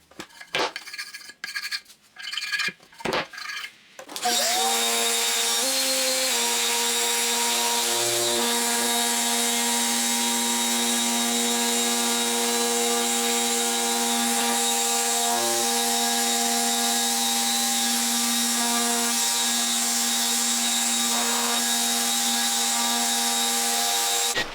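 A few sharp knocks and scrapes give way to a power sander's loud, steady whine running continuously on a wooden cutting board with 80-grit paper.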